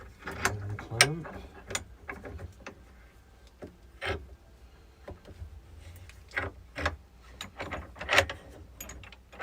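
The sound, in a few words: clamps being tightened on a glued river table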